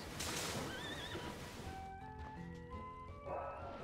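A water horse creature in the game Bloodstained: Ritual of the Night lets out a short, loud whinny at the start, followed by game music and effects.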